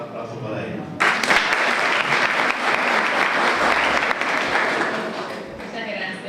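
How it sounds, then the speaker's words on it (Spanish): An audience in a hall at a law school ceremony applauds a group of speakers: after a brief quiet start, a sudden burst of dense, even clapping lasts about five seconds before fading out, followed by a voice starting to speak. "Un aplauso para ellos."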